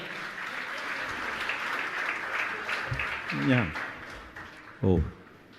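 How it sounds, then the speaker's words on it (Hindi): Audience applause at a Hindi religious gathering, clapping spread across the room, with someone speaking briefly over it twice near the end. "आप जोरदार ताली बजाकर उनका सम्मान करें।"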